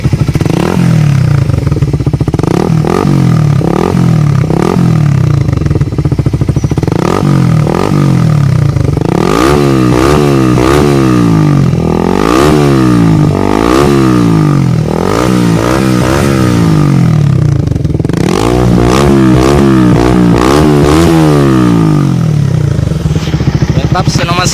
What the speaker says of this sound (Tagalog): Kalkal pipe, big elbow with catalytic.